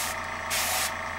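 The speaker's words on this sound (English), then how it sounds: "I could just spray a little bit on the face" An airbrush sprays paint onto a figure's face in one short, steady hiss that swells briefly louder midway, close and alone.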